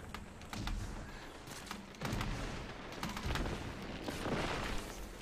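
Pistol gunfire in the blocky shooter game Ace of Spades: a run of sharp shots in loose bursts over busy in-game battle noise, with many impacts scattered across the stretch and a steady mid-loud level.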